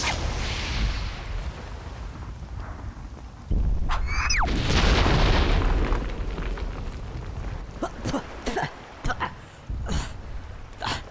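A Teddy Funken U-47 intercontinental ballistic missile bursts in Conker: Live and Reloaded, a heavy rumbling blast that swells loud and holds for a few seconds, followed by sharp scattered cracks and game effects.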